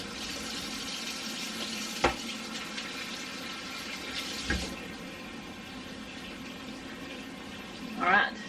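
Water runs into a pot of goulash holding corn and beef, a steady faint hiss of flow with a couple of sharp knocks and a brief louder splash at the end.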